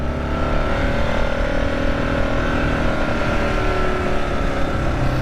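A 2024 Kawasaki KLR 650 pulls steadily under throttle on a gravel road, its engine droning loud and continuous, mixed with rushing wind and the rumble of tires on loose stones.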